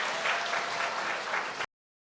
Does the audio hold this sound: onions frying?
no